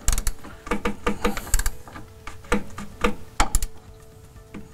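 Close, crisp ratcheting clicks come in irregular bursts as the fuel filter cap of a Ford F-150 3.0 Powerstroke diesel is twisted into its locking stop.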